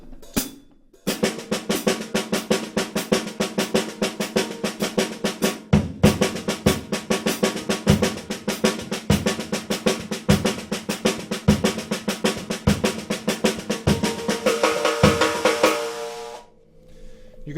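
Snare drum playing a Brazilian samba pattern, a steady driving stream of light ghosted strokes with regular accented hits, played alone and close for about fifteen seconds before ringing off.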